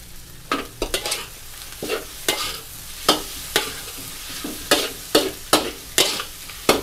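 Pad thai with fresh shrimp, dried shrimp and garlic chives is stir-fried in a wok: a constant sizzle broken by a quick, irregular run of sharp spatula scrapes and clanks, close and clear, with no talking.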